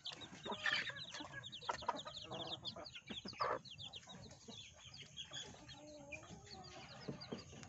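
Four-day-old chicks cheeping in a small coop, with a chorus of faint high peeps mixed with soft clucking from nearby chickens over a quiet background.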